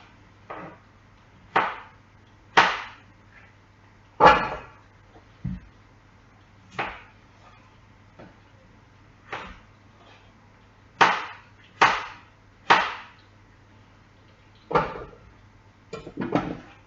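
A knife chops through potatoes on a cutting board, cutting them into rough cubes: a dozen or so sharp, separate knocks at an irregular pace, close and clear with no talking.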